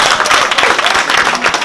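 Loud, close clapping from a gathered audience, a brief dense burst of hand claps with a lively, uneven rhythm.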